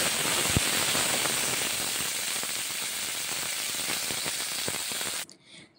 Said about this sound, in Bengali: অল্প কিছুটা পরিমাণ বরবটি কেটে রেখে দিয়েছিলাম, যে এখন এই বরবটিটা ভেজে নিচ্ছি।